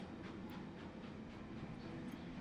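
A train rolls along the rails in the RailGods of Hysterra video game, a low steady rumble with faint rhythmic clatter, quiet and even throughout.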